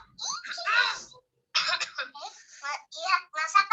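A child coughs a few times in short bursts, mixed with young voices talking close by in a playful exchange.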